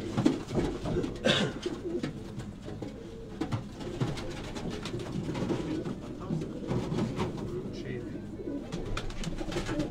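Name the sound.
pigeons cooing, Sialkot Batera breed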